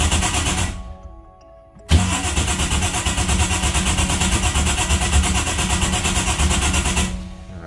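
A motorcycle engine with a carburetor that had run empty, sitting for about five minutes, stops briefly, then fires up and idles loudly and steadily without throttle until the sound tapers near the end.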